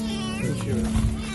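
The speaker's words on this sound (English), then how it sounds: "These builders heard a cat's helpless cry" A cat trapped in the ground at a building site gives a loud, close, strained meowing cry that wavers in pitch and holds through the whole short moment.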